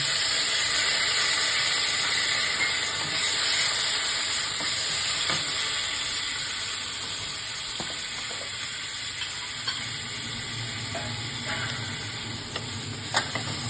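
Potato, eggplant and onion fry in a pan with a steady, close, loud sizzle and hiss, scattered small pops and crackles, and no voices.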